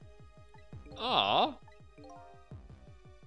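Water drips in steady, quick, evenly spaced plinks in the Ghost Trick video game, continuing throughout while a voice briefly exclaims in the middle.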